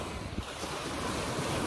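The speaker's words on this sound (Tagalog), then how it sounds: "Maingay po yung tubig pero maganda." Waterfall water rushes as a constant dense roar, loud and close, with no distinct breaks or voices over its short span.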